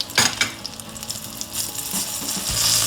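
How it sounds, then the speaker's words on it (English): Chilies frying in melted fat for a flat iron steak stir fry, giving a steady close sizzle with scattered sharp pops and crackles that grow denser toward the end. "the chilies are starting to blister and pop"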